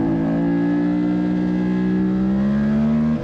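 Close, loud engine drone from a Suzuki SV motorcycle under hard throttle out of a corner at New Jersey Motorsports Park, during a thunderbike club race, its pitch rising steadily.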